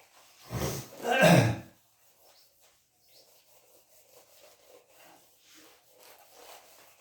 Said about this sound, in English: Rub this.